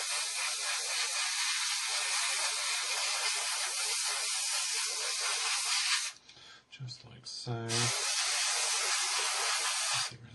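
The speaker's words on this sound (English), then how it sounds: "Now we're spraying this very high air pressure, around about 35 psi." An airbrush sprays primer onto a 1/32 Trumpeter Corsair model kit at about 25 psi, a loud, steady close hiss that breaks off briefly in the middle while a voice speaks, then starts again.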